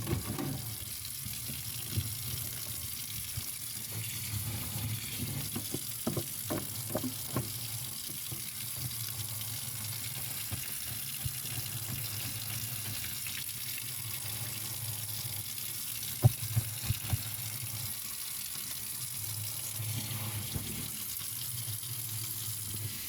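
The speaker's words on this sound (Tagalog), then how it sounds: "Lalagyan ng tubig." Water runs into a kitchen sink being declogged, a faint steady flow with occasional splashes and clinks throughout.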